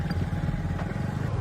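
A TVS Jupiter 113 BS6 scooter ridden just after an oil change gives a steady, close engine drone with a low, rough rumble that holds even throughout, with no voices.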